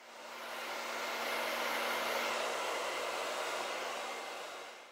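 Hair dryer blowing steadily on a peel-off face mask, a loud continuous broadband whoosh with a faint motor hum that holds level for the whole stretch, no talking.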